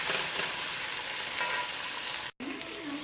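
Pork stirred in a pan with onion and garlic-ginger paste for a masala curry, giving a steady, close sizzle with soft scraping throughout and a brief dropout near the end, no talking.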